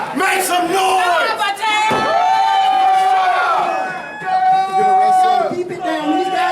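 A wrestling show crowd roars steadily, with cheering, whooping and yelling blending into a loud, continuous wall of noise that swells and dips slightly.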